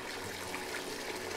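Steady running water from the video game Heavy Rain, a continuous broadband rush with no clear breaks, moderately quiet and alone.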